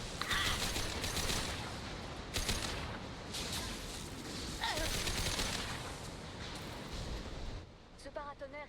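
Gunfire in the video game Mass Effect 2 crackles in rapid bursts and repeated shots over a dense battle din, with game sound effects layered throughout.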